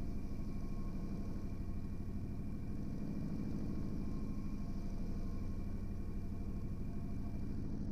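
Steady droning rumble of a Harvard trainer aircraft's radial engine during a propeller exercise, a continuous even pulsing heard from inside the cockpit, no voices.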